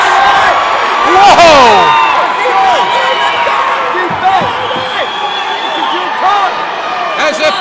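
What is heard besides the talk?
crowd cheering at MMA fight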